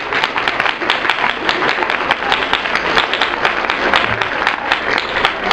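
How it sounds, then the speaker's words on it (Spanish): A loud, dense round of audience applause fills the room at an animal biotechnology event. The clapping is vigorous and steady, with sharp individual claps sounding at a constant high level. "Así que un aplauso muy fuerte"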